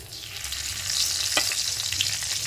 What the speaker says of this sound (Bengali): এবার এই তেলের মধ্যে গোটা গরম মশলা করে দেবো দারুচিনি এলাচ লবঙ্গ আর দুটো তেজপাতা দেবো